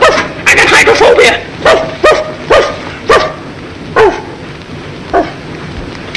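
A man imitates a dog with a run of loud throaty woofs, several rapid barks at first and then spaced single yelps, over a noisy backdrop in a 1945 film scene.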